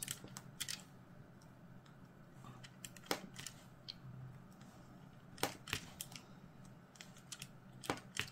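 Square diamond painting drills snap into place under a pen tool, giving sparse, faint, sharp clicks spread over a quiet background with no talking.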